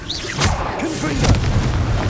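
Confringo fire spell blasts in Hogwarts Legacy: a couple of sharp bursts with booming low rumble and bright crackle, loud and close, with a voice and game effects overlapping.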